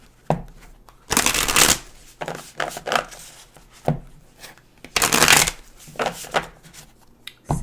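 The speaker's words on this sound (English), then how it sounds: "And I shuffled. You heard me shuffle." Tarot cards being shuffled during a reading, heard as two long, loud riffling bursts with shorter card taps and slides between them, close and alone without speech.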